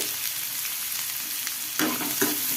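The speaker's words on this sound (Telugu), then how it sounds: "ఆనియన్స్ వేసుకొని ఒకసారి బాగా కలిపేసుకోవాలి" Chopped onions go into a pan of sizzling cumin and mustard seeds while cooking a baby bitter gourd fry, making a steady close crackle with a louder burst of stirring and scraping near the end.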